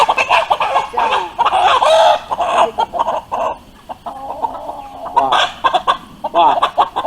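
A rooster clucks and squawks in a busy, agitated series of calls, close by and fairly loud, with a few quieter pauses between bursts.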